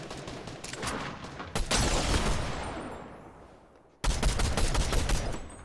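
Fortnite gunfire in bursts: rapid automatic shots rattling in a loud, dense stream that fades off, then a sudden second loud burst of rapid fire; no talking.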